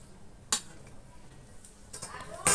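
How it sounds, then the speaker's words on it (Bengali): A lid is set onto a cooking pot of jackfruit with salt and turmeric, giving two sharp metallic clanks about two seconds apart over quiet kitchen background, with no one speaking. "এবার দিয়ে দিচ্ছি ঢাকনা"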